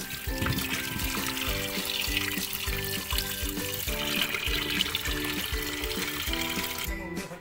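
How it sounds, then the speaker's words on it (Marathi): Tap water runs steadily while halwa fish (pomfret) is rinsed under it, a continuous trickle and splash over a background with tonal music, fairly close and moderate in level. "आपण आता हे नळाखाली स्वच्छ धुवून घेणार आहोत"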